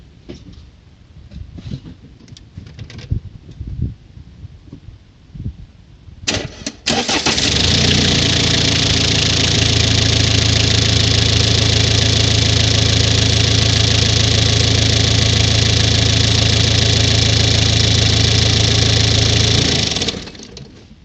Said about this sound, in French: Puis là je vais démarrer la caisse.